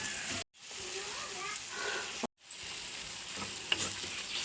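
Beef liver masala fries in a pan with chili, coriander and pepper powders, sizzling steadily at low volume with light stirring. Two brief dead-silent gaps break the sizzle.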